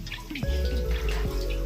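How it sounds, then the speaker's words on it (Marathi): Water runs steadily from a cow-mouth stone spout into a temple tank at ancient cave shrines, a continuous close splashing flow with small drip-like accents. "तर गौमुखामधून पाणी वाहत आहे."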